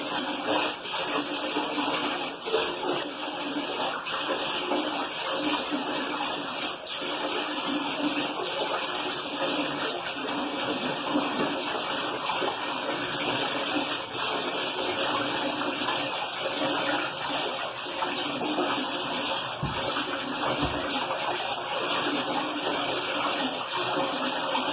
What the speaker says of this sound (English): Now you're going to open up the shower.